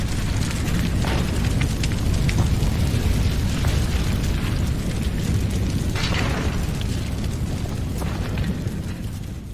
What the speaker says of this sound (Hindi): और देखते ही देखते उसमें धमाके शुरू हो गए